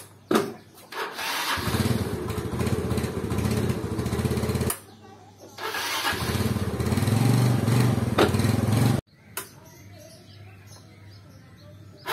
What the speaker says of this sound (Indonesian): Ya tadi dari pagi sudah bisa di starter langsung hidup